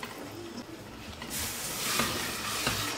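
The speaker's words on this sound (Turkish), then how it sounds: "Suyu da koyuyorum." Water poured into a hot, sizzling pan of tarhana on the stove: a steady frying hiss swells into a loud, rushing boil that churns on to the end, with no talking.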